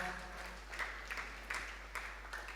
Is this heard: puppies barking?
no